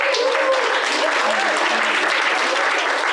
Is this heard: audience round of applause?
yes